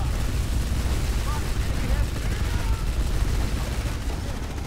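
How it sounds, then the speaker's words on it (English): Grenade explosions and gunfire in a military shooter video game, a dense, constant, loud rumbling din of blasts and shots with no clear gaps. "Yeah, lots of nades coming through."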